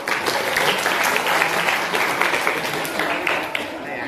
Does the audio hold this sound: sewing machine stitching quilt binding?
no